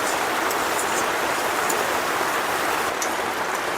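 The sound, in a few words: chopped onion and green chili frying in oil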